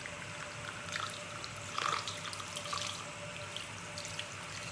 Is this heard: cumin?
no